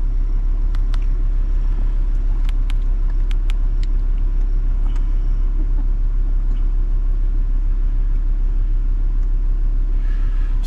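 A Volvo V70 driving along, heard from inside as a steady, continuous low road and engine rumble with a few faint ticks and clicks throughout and no talking.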